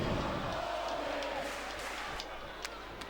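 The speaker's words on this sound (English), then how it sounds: "Apparently, some of the crowd wants Foley" Arena crowd in the wrestling game WWE SmackDown vs Raw 2008, a loud continuous roar of voices with faint scattered thumps, steady and dense across the whole moment.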